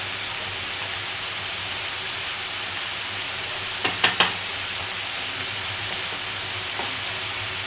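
Bitter gourd and cauliflower fry in a pan with salt and turmeric, giving a steady, even sizzle throughout, broken by a few short utensil clinks near the middle.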